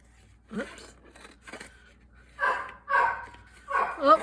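A pet dog barks in several short bursts while chasing a cat indoors, the yaps spaced irregularly and fairly close, with some faint background sounds between them.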